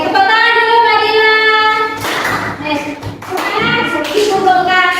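Children in a primary school classroom clap their hands briefly between stretches of a teacher's sung and spoken voice, with tapping and shuffling of pupils close by.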